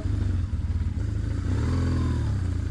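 An off-road motorcycle on a TET trail in Auvergne accelerates with a throbbing, uneven engine note that chugs then rises, close and loud throughout.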